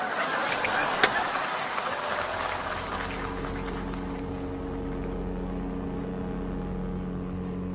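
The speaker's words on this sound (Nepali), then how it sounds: "इन्जिनबाट त पानी जहाजको आवाज आयो त" A ship's engine starts with a rough, noisy burst, then settles into a steady, loud, low droning rumble that holds to the end.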